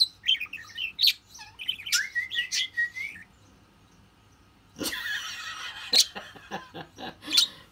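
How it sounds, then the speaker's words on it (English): A pet bird kept indoors whistles and chirps in a quick series of bright, varied notes, falls quiet for a moment, then resumes with a burst of sharp chirps and whistles close by. "Whistles coming out of him."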